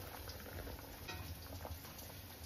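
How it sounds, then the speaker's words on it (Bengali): Curry gravy with potatoes bubbling in a pot after koftas are added, a faint, steady low burble close by with no other sounds. "আলুটা সেদ্ধ হয়ে গেছে, ঝোলটা ফুটছে।"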